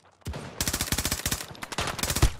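Rapid automatic gunfire in Battlefield 2042 rattles off in loud, dense bursts after a brief quiet start, with a heavier thump near the end.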